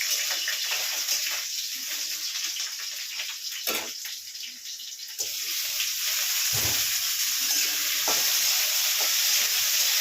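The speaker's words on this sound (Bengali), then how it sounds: "ঝিঙেটাকে খুব ভালো করে হাত দিয়ে একটু চেপে নিয়ে ঝিঙেটা তেলেতে দিয়ে দেবো" Ridge gourd and potato fry in hot oil, a steady close sizzle with stirring and scraping in the pan, continuing throughout with no talking.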